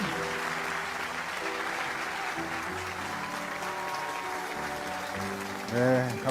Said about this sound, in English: Let us give Dr. Hak Ja-han Moon another warm round of applause